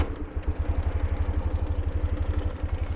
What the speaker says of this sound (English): So I'm going to start this Ural up.